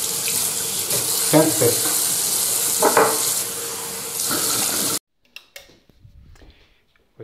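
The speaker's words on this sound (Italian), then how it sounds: "Sciacquiamoci, acqua fredda." Cold tap water runs steadily into a bathroom sink for rinsing after a traditional razor shave, a loud continuous splash for about five seconds before cutting off, followed by faint clinks and a short spoken word.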